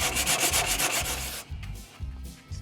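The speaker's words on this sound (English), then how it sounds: "Let's try some sandpaper on there." Sandpaper rubs on the body of a car in a rapid rhythm of back-and-forth strokes, then slows to a few separate scrapes, close and fairly loud with no talking.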